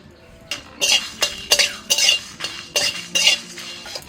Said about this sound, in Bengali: প্রথমে শুকনো কড়াইতে আমি ভাজা মশলা তৈরি করে নেব